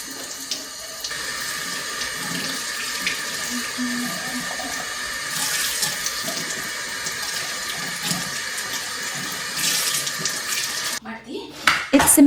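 Tap water runs steadily into a sink while a coffee warmer is washed, a continuous close splashing with occasional knocks of handling near the end.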